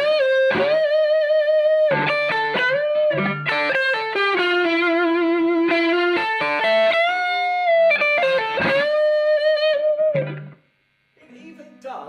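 A Les Paul electric guitar played through a Carr Skylark amp with reverb rings out in sustained, singing lead notes and melodic phrases, loud and close, with a brief pause near the end before a few more notes.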